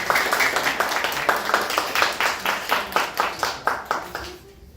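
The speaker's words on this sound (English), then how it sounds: "let's just give a big round of applause to Miss Odom for putting together an event" An audience at a leadership luncheon claps in a steady, rhythmic unison beat, with sharp regular claps that fade near the end.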